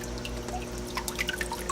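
Water churned by a Jebao WP 40 wave pump in a 55-gallon, four-foot aquarium, giving steady close sloshing and dripping over a low pump hum, with no talking.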